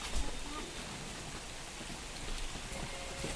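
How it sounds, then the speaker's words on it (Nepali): Steady rain falls through a damp morning, a continuous soft hiss of drops at moderate level with a faint voice briefly underneath. "आज चाहिँ बिहानदेखिको पानी पर्दैछ, वेदर चाहिँ यस्तो छ है।"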